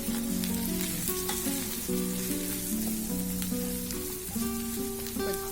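Coriander, garam masala and cumin powders with a little turmeric fry in hot oil, a steady close crackling sizzle with scattered pops and faint stirring, no voices.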